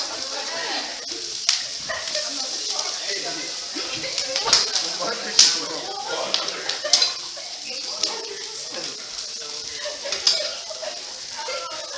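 Floured fish fries in a hot pan, giving a steady bright sizzle with scattered sharp spits and pops, while a voice talks over it.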